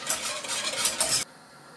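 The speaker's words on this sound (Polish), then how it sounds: "Mieszamy od czasu do czasu, żeby rozpuścił się cukier." Milk and sugar stirred in a pot with a spoon, a steady close scraping swish for about a second before it stops abruptly.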